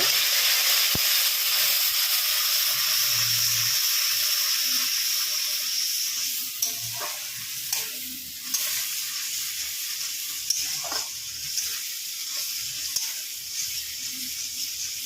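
Spice paste for chicken biryani frying in a pan, a loud continuous sizzle and hiss that softens midway, with occasional stirring scrapes and clicks close by, no talk.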